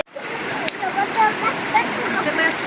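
Water flows steadily at a bathing spot in Pilar, Bohol, a continuous rushing splash close by, with a brief knock early on and faint voices in the background.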